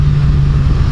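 A 2014 Kawasaki Z1000 Special Edition motorcycle engine runs hard with a steady, loud mid-range drone, held close and continuous for a brief moment with no talk over it.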